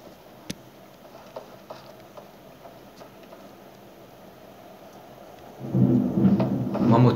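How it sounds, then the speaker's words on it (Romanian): A low rumble of thunder swells in near the end and rolls on loudly, after a quieter stretch with faint scattered knocks and a sharp click early on. "Wow, cum tună."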